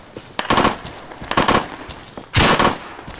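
Bursts of automatic gunfire from the video game Arma 3, a few loud rapid volleys separated by short pauses, with no talk.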